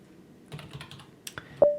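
Typing a terminal command on a computer keyboard: a short burst of close, crisp key clicks in a quick uneven run, a few louder keystrokes near the end, with no talking.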